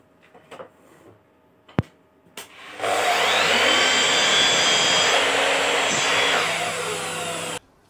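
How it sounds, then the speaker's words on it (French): A miter saw spins up and bites through wooden boards being cut to length for a DIY garden privacy screen, a loud sustained whining roar lasting several seconds after a few light knocks of handling. "pour les couper à longueur, vous voyez que j'utilise ma scie à onglet"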